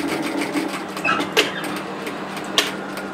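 A sewing machine stitches fabric along the edge of a puff sleeve top, giving a steady mechanical whir with a couple of sharper clicks.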